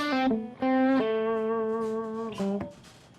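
A few sustained electric guitar notes ring out clean and dry, each one stopping abruptly with no echo or reverb trailing after it.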